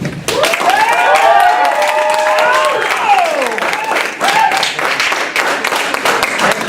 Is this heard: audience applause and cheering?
yes